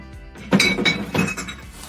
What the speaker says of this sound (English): I've got some glass containers that I can recycle. They're gonna go in my blue bin as well.